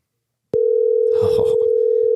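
A phone call is placed and a single steady electronic tone comes in abruptly and holds unbroken, loud and clean, with a brief murmur of voices partway through.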